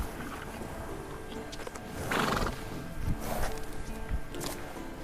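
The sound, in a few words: horse neighing in video game The Witcher 3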